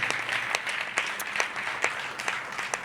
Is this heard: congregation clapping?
yes